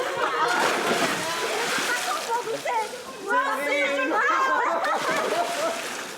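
A person being dunked into water on a reality TV set, splashing and sloshing water under excited voices and shouting.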